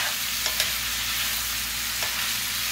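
Cajun pork and sausage jambalaya is stirred in a hot pan, a loud steady sizzle with a few scraping strokes of the spoon close up.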